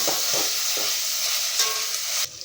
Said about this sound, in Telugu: ఇప్పుడు కూరగాయ ముక్కలు వేగుతున్నాయి కదా